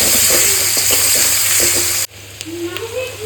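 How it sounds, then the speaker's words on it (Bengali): Onion frying lightly in a pan with fish masala for a koi fish dish: a loud, close, crackling sizzle with stirring clicks that drops off sharply partway through to a quieter hiss. "দিয়ে দেবো অল্প পরিমাণ পেঁয়াজ, দিয়ে সমস্ত কিছু একটু ভালো করে হালকা হালকা ভাজা করে নেব"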